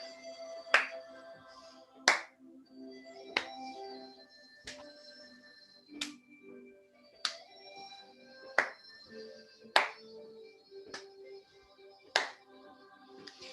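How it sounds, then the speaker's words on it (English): During a gentle Shibashi tai chi exercise class for older adults, single light hand claps ring out one at a time at a steady, unhurried rhythm, crisp and close against quiet background. "Swing the arms up and a little clap."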